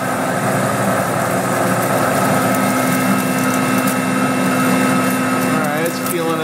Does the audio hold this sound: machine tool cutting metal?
yes